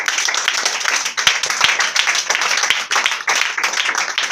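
A congregation at a church service claps and applauds, with dense, sustained hand clapping throughout at close range.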